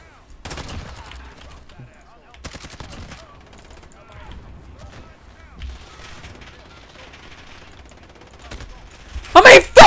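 A light machine gun firing in a multiplayer shooter video game, loud repeated bursts of automatic fire separated by quieter gaps, ending in a heavy close barrage.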